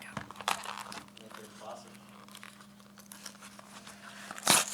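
Paper crinkles and rips as a taped, sealed bid envelope is torn open, with scattered crackling bursts and a sharp tear near the end, voices murmuring faintly in the room.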